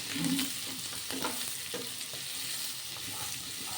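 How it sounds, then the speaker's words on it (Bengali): Onion and capsicum frying in a pan for chilli potato, a close, steady sizzle with repeated scraping stirs of a spatula, no talking. "ক্যাপসিকাম আর পেঁয়াজ হালকা ভাজা ভাজা হয়ে গেলে"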